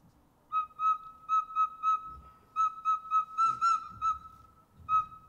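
A recorder plays a song as a run of short, bright, whistle-like notes, mostly on one repeated pitch in a bouncy rhythm, heard close and clear with no talking.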